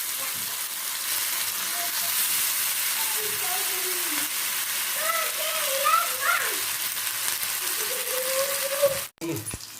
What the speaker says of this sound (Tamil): ஒரு கடாயில் ஆயில் சேர்த்து மீனை நல்லா ரோஸ்ட் பண்ணி எடுக்க போகிறோம்